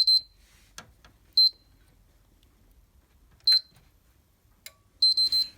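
Short electronic beeps from a Sony PlayStation 3 sound in separate bursts, some single and some quick doubled runs, separated by long quiet gaps.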